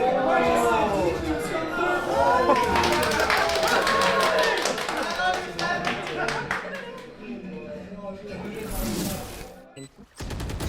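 At a university Valorant esports tournament, a live crowd erupts in loud clapping, cheers and excited shouts after a tense defuse play, rapid hand claps and whoops that swell then taper off.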